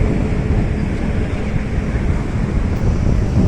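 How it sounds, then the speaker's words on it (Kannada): Strong wind gusts across an open beach at sunset, a loud, steady roar buffeting the microphone with a faint wash of surf beneath, no voices. "ಗಾಳಿ ಸಹ ಸಖತ್ತಾಗಿ ಆಡ್ತಾ ಇದೆ"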